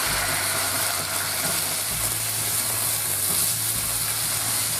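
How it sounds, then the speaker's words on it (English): Loud, steady sizzling of marinated beef searing on both sides in a pan over medium-high heat, a continuous hiss throughout. "we're going to sear the beef on both sides."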